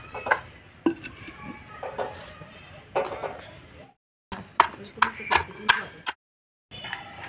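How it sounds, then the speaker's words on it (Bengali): A spoon stirs ghee around a kadai in sharp, irregular metallic clinks and scrapes, clustered in bursts with short silent gaps, and a voice speaks at times between them. "ভালো করে নাড়াচাড়া করে নেব। ঘিটা চারিপাশে কড়াই লাগিয়ে নেব।"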